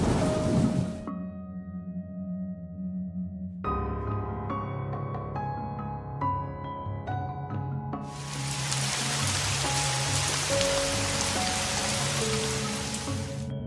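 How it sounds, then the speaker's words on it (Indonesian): Heavy rain pours down as a loud, dense, steady hiss that takes over in the final seconds, following a stretch of soft sustained musical tones. "Hujan turun deras dari langit."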